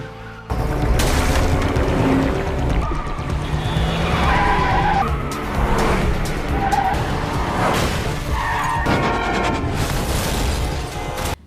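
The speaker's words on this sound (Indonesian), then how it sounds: "Tak sampai di situ, berlanjut dengan kejar-kejaran mobil." A car chase from a Korean drama series: loud, sustained engine roar with tire skids and squeals, heavy booming impacts and crashes piling up for several seconds without talk.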